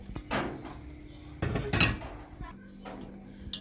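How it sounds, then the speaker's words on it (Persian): Dolma filling of dried herbs and a little boiled water being stirred in a pan, a spoon scraping and clinking against the metal in several short bursts with quieter pauses between. "مواد رو خوب هم میزنیم"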